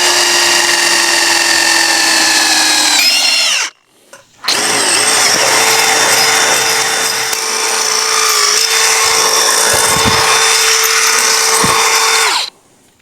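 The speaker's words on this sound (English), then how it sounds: "that's where we're going to drill a hole" A power drill bores a hole into a chain link fence post, whining loud and steady with heavy grinding, stopping briefly after a few seconds before a longer sustained run.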